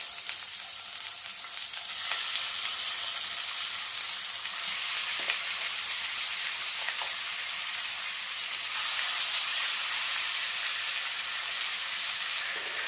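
Chicken pieces sizzling and frying in hot coconut oil with curry leaves for a Christmas chicken chukka, a steady loud hiss of spitting oil throughout with faint occasional stirring clicks.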